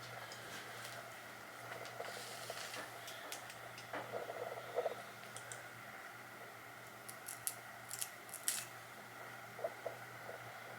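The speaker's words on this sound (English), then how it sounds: "taking this razor, this little razor right here, we're gonna go ahead and go into the lace and cut it" A small razor cuts the lace of a glueless wig up close, giving faint, sparse snipping clicks over a quiet room hum, with a few sharper cuts near the end.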